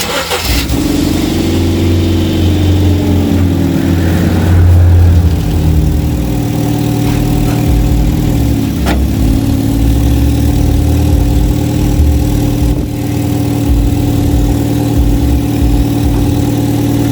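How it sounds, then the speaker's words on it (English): A Ford Fusion with a newly replaced exhaust cranks over and catches, then settles into a steady, loud idle with a low rumble that holds close by for the rest of the time. "I'm going to start the car up and we'll see what it sounds like"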